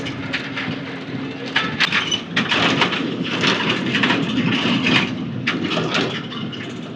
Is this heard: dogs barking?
no